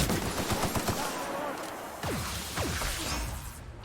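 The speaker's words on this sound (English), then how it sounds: "That was not the gun I thought it was." Gunfire from a weapon in the video game The Outer Worlds: a quick burst of sharp shots up front, then a couple of louder cracks with whooshing tails amid noisy combat ambience.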